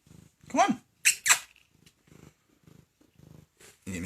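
A cat purrs and gives short meows indoors in short bursts, close to the microphone, while someone talks to it between the sounds.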